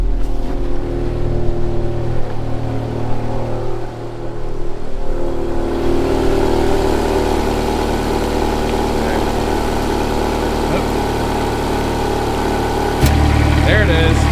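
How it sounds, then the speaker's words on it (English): A Ferrari engine fitted with a Forza Componenti exhaust valve controller idles steadily and close up, a deep running drone through the whole stretch with a louder rumble near the end as valve settings change. "let's fire it up and play with the valves a little bit"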